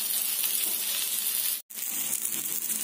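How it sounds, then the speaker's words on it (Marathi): Surmai fish fries in an uncovered pan with a continuous bright sizzle, broken only by one brief silent gap midway. "फिशला आपण असंच फ्राय करणार आहोत."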